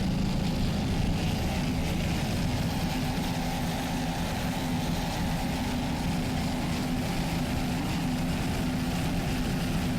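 A 36-foot Skater race powerboat with twin 2,500-horsepower Mercury inboard engines drones loudly and steadily throughout, a constant deep engine roar with no talking.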